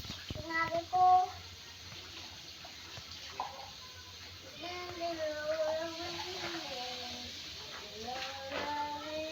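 Children washing dishes at a sink, with water splashing and being poured out amid clinking, while kids talk and call out throughout.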